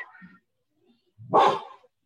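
A house dog gives one loud, sharp bark close by as someone comes in through the door, after a moment of quiet with only faint sounds before it.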